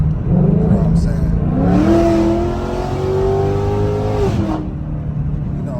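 A 10-speed Ford Mustang GT idles with a steady low rumble, then revs up in a rising, sustained engine tone that settles and drops back to idle, heard close up.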